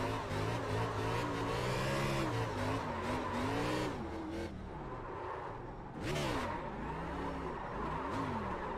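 A car engine in the iRacing video game revs hard and wavers during a clutch-kick drift, rising and falling in pitch with a sharp flare near the end, loud and close throughout.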